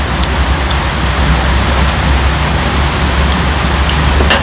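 Heavy rain falling steadily on a surface, a dense, loud hiss with scattered drops, close by and continuous with no talking.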